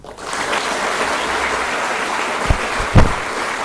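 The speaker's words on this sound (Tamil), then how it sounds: "இந்த 3 பேருக்காகவும் ஒரே ஒரு தடவை மனசார கைத்தட்டிடுங்க." An audience applauds during a spiritual speech: clapping swells quickly into a steady, loud wash from many people and holds, with a couple of heavier thumps near the end.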